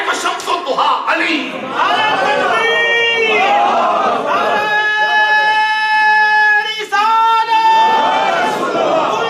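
A large crowd at a religious gathering chants slogans in loud, drawn-out unison, rising and falling in repeated waves that fill the whole span, with a few shouts and voices mixed in.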